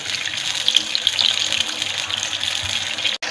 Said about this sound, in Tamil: இப்போத்தே அந்த பொறி பொறின்னு சவுண்டு வர ஆரம்பிக்குது